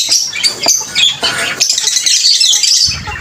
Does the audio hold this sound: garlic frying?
no